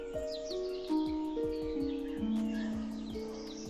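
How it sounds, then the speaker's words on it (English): AI-generated birdsong in a historical scene: a series of short chirps and whistled tweets, clear and fairly close, repeating at an irregular pace over a quiet background. "The bird sound is so realistic"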